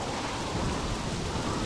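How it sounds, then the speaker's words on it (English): A Caribbean storm in the pirate video game Sid Meier's Pirates roars with dense, steady rain and rolling thunder, a loud continuous wash of noise with no voices over it. "As we travel through our Caribbean storm."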